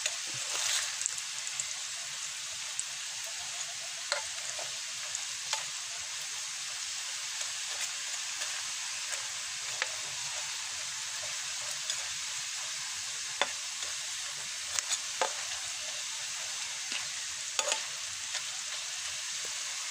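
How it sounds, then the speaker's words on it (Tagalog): Taro chips deep frying in about a quarter cup of hot oil over a wood fire give off a steady, close sizzling hiss with scattered sharp pops and crackles throughout. "So, deep hot fat ang cooking doon sa taro chips."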